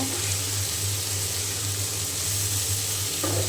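Bitter gourd frying with turmeric and salt, a dense, even sizzle of hot oil close by, steady throughout with a low hum beneath it and no clear stirring strokes.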